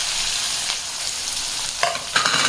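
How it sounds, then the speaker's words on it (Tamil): Onions added to hot oil with popped mustard seeds for a cabbage poriyal, giving a continuous close sizzle that swells in two sharp bursts near the end as they hit the pan, with no voices. "இப்போ நம்ம வந்து வெங்காயத்தை போட்டுக்கலாம்"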